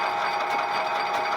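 A South Bend 14-1/2 inch lathe runs after a spindle bearing rebuild, giving a steady, smooth mechanical whir with a constant hum and no breaks across the brief stretch.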